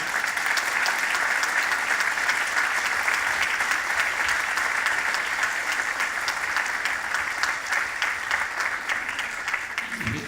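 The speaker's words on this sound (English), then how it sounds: "let us give one round of applause to Dr." A lecture audience bursts into steady, full applause for the guest speaker, a continuous wash of many hands clapping that stays loud throughout and tapers only at the very end.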